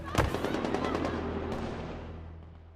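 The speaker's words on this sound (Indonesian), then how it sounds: "Terlihat pertandingan ini terganggu oleh suara tembakan." A sharp loud burst opens, followed by a rapid string of gunshot-like cracks that fade into a lingering rumble, with a second faint crack later, in a film scene.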